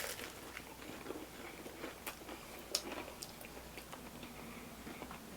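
Someone bites into and chews a crunchy lamb samosa from an Indian takeaway, giving several close, sharp crunches and chewing clicks, with one louder snap near the middle and no speech.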